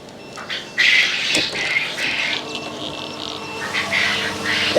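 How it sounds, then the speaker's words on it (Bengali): Newly hatched quail chicks chirp inside an incubator, a dense chorus of high, overlapping peeps and squawks, fairly close and continuous, with a brief louder burst of handling noise partway through and no talking. "এই মেশিনে অলরেডি বাচ্চা ফুটেছে কোয়েল পাখির বাচ্চা"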